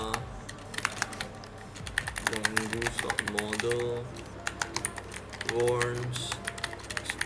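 A broken computer keyboard clacks in quick bursts of close keystrokes while someone talks over the typing.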